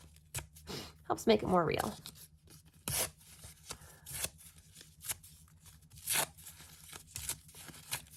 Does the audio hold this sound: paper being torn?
yes